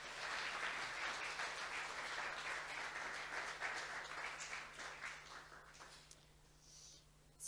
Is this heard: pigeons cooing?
no